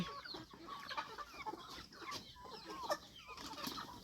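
Chickens cluck and squawk continuously in a busy, close flock, with overlapping calls and scratching noises throughout.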